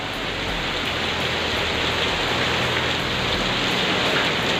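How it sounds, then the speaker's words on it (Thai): Steady, dense rainfall pours down continuously outdoors, a loud even hiss with no talking over it. "ฝนตกดีพี่น้อง"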